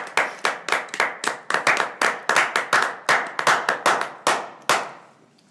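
Loud hand clapping in quick, uneven bursts, about twenty sharp claps each trailing off in a short echo, the last few slowing and fading out, with no voices over them.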